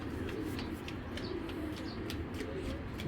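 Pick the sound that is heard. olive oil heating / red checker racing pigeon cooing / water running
red checker racing pigeon cooing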